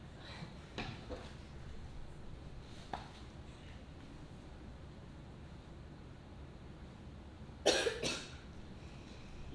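A person gives a few scattered coughs, one louder and harsher burst near the end, against a low outdoor rumble with faint talk.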